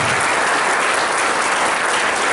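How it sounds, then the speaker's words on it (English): Dense, loud round of applause from a business-community audience at a presidential political forum in a resort conference center, a continuous wash of many hands clapping at once without pause. "So at least give them a round of applause real quick."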